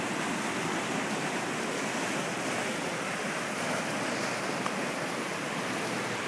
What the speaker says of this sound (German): Hört ihr das Meer rauschen?